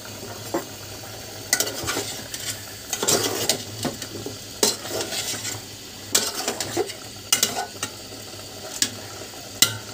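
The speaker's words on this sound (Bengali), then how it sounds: "এখানে চিকেন ভেজে নিলাম" Chicken frying in a pan while being stirred, a soft steady sizzle broken by irregular scraping and clinking of a utensil against the metal, close and without talk.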